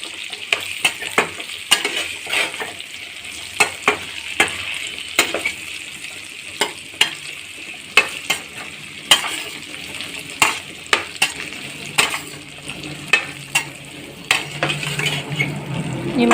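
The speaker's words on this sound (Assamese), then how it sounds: "ভালদৰে লৰাই লৈছোঁ।" Elephant apple with turmeric is stirred in a frying pan, giving a soft background sizzle broken by frequent sharp scrapes and clinks of the spoon against the pan in an irregular rhythm.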